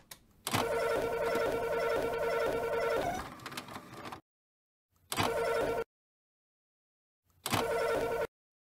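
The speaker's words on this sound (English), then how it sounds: "I want the fax sound to come in a little bit later than that." Fax machine sound effect for a space station scene in the game Alien: Isolation: steady multi-tone electronic warbling and handshake tones for about three seconds, then two short separated bursts of the same tones with silence between, no talk.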